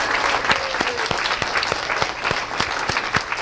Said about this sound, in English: Everybody give the C's a big round of applause